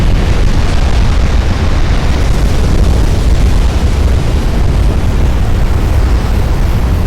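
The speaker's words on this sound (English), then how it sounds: "I've not seen a flash fire that bad in a very long time." A warship flash fire explosion in the naval game Ultimate Admiral: Dreadnoughts roars as a loud, sustained, dense rumble that fills the whole stretch without letting up.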